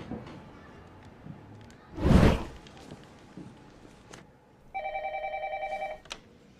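A telephone ringing during a call, a short electronic ring tone repeating near the end after a loud thump and quiet room noise.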